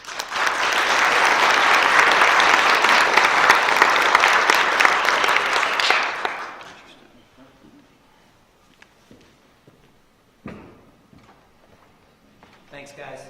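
Audience applause from a seated crowd, loud and dense for about six seconds, then fading out into a quiet room with a few scattered claps and small noises.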